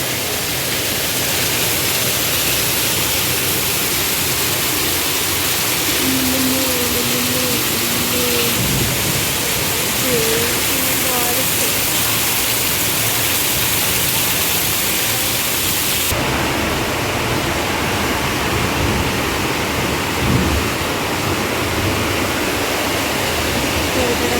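Heavy rain pours in a steady, loud, broad hiss, with a soft voice briefly audible beneath and a low rumble near the end.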